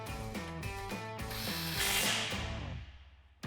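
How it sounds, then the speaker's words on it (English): A hand ratchet tightens a 10mm bolt on a Jeep Wrangler JL brake line bracket, with a rapid, steady run of close mechanical clicks that slows and ends with a final click. "we're gonna take our 10mm bolt we took out, put it back in and tighten it down"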